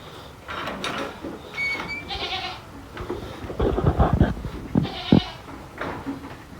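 Several newborn baby goats bleat in thin, wavering cries, some overlapping, close by amid shuffling and rustling on a farm, with no speech.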